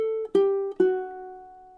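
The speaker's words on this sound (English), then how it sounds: "So measure 14 in time sounds something like this." On ukulele, one measure of a song, a short picked riff of three crisp plucked notes in quick succession, close and clean, with the final note sustaining and fading.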